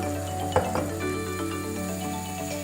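White wine mixed with cuttlefish ink is poured over cuttlefish cooking in a pan on high heat, setting off a steady sizzle and frying hiss with a brief clink at the start.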